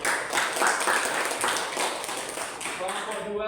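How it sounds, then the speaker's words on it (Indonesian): A classroom of students clapping together in steady, dense applause that stays even and close throughout, with a voice faintly beneath it. "Bisa kasih tepuk tangan dulu."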